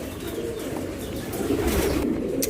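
A racing pigeon gives soft, low cooing calls close by, repeated over a couple of seconds.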